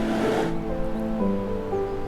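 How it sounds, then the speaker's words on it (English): Clean river flowing past a campsite beside cedar woods in Morocco, a close, steady rushing wash of water with a brief brighter surge at the start, no talk. "A lovely clean river"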